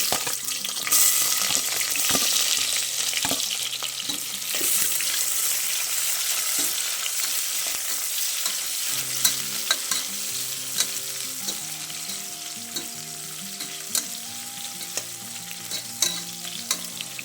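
Chopped onions for egg biryani sizzle and fry steadily in a hot pan, with stirring scrapes throughout and music playing underneath in the second half, with no talking.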